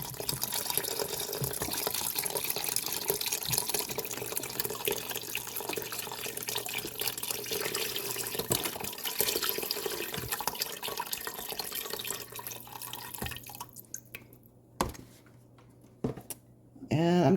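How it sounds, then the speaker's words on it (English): Chicken broth pours into a soup pot of Zuppa Toscana, a continuous splashing trickle that runs for most of the stretch before tapering into a few drips and clinks, with a person talking over it. "So I'm adding the rest of the chicken broth."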